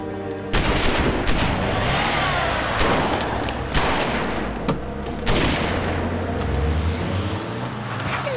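Heavy gunfire in a fusillade: loud sharp bursts of shots and cracks over a dense, roaring din, close and continuous throughout.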